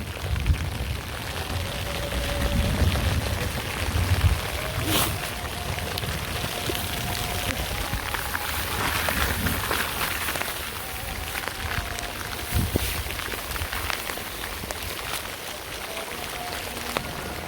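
Steady rain falls outdoors in a village setting, a continuous even hiss of drops on surfaces that holds at a moderate level throughout with no voices.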